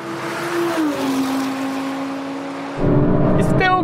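Audi R8 GT and RS6 GT accelerating side by side in a third-gear roll race from 80 km/h, a steady engine drone that rises into a louder, harsher surge near the end.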